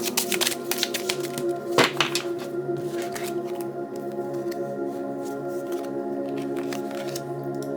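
Tarot cards shuffled by hand during a reading, a soft rapid run of papery flicks and riffles with scattered taps, fairly quiet and close, over a faint steady hum.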